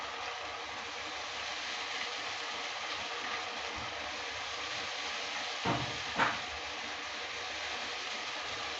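Thin ghevar batter pours a little at a time into hot ghee, giving a steady broadband sizzle and hiss throughout with two brief louder spurts near the end.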